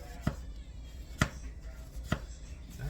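A knife slices through an onion on a cutting board in three sharp, evenly spaced chops, close up over faint background hum, with no talk.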